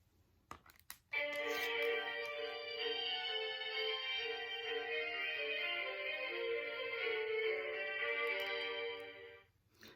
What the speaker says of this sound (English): These people are playing violins.